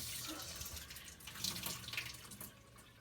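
Running water from a tap rinsing a piece of wet felt in a sink, a steady soft splashing flow throughout, faint and without talk.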